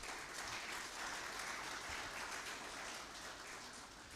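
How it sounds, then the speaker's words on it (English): Audience applause at an awards dinner, a continuous, evenly dense clapping from a large room that stays steady and fairly quiet throughout. "Could we kindly give them a hearty hand clap?"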